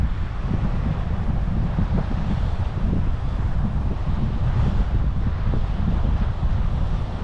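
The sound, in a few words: strong wind at the beach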